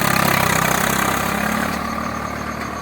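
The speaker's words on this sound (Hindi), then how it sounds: "आज उनमें हमारे ट्रैक्टर चल रहे हैं" A tractor engine runs with a steady, throbbing idle-like drone in hillside farm fields, close and fairly loud, fading slightly toward the end.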